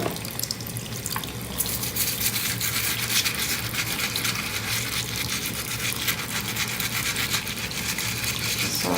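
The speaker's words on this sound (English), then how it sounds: "I just get my designated crystal toothbrush" A toothbrush scrubs a crystal under running water with fast, continuous bristle rubbing over a constant splash of tap water into a sink, close and steady throughout.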